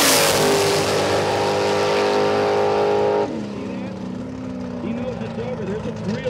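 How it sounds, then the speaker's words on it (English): A 1972 Chevrolet Nova drag race car at a drag radial event makes a loud, high-pitched engine scream that cuts abruptly after about three seconds to a lower, wavering idle, with a commentator talking over it. "Chevrolet 72 model Nova as Pacini hits the puddle getting ready."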